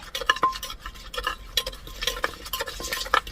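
Green papaya salad is pounded in a mortar outdoors in the snow, a string of sharp, uneven knocks and clacks close by, with no talking.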